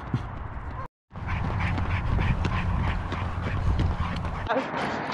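An excited female dog eager to go for a run makes continuous whining, yelping noises close by, broken briefly by a short pause before resuming.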